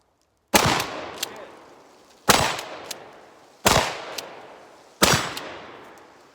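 Remington Tac shotgun firing five rounds: four loud, sharp blasts land at roughly even intervals, each trailing off into a short echoing decay, with a faint extra click after each.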